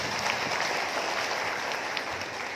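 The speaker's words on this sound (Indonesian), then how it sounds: "Tepuk tangan untuk kita semuanya." Audience at a gathering of posyandu health cadres from 223 villages in Pemalang Regency breaks into steady, dense applause, a continuous wash of many hands clapping at even loudness throughout.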